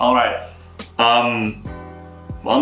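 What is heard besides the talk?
No everyday noise stands out behind the speech.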